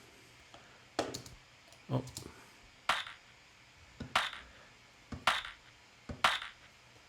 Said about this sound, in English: And here we have the claps.